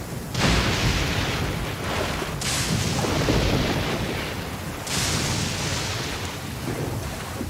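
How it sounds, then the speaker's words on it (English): Thunder rolling in the Genshin Impact video game, loud sustained rumbling storm with sharp cracking onsets recurring every few seconds over a dense rain-like wash. "Thunder and lightning can be quite frightening, but don't worry."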